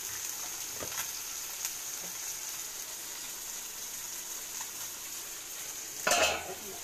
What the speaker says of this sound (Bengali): এইখানে মোরলা মাছ ভাজা হচ্ছে